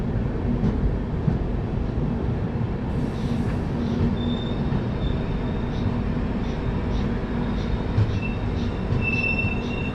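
Lucknow Mail passenger train pulling into Hapur junction in the early morning, a steady close rumble of rolling wagons with thin high wheel squeals rising over it.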